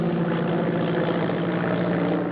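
A propeller plane drones in flight, a steady, loud, low engine hum with no breaks, with no voices over it.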